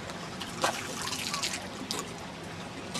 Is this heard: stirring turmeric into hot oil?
no